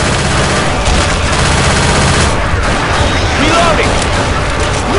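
Gunfire from a Left 4 Dead 2 custom map, a dense, continuous barrage of shots and explosive bursts. It is loud and close, with players talking over it.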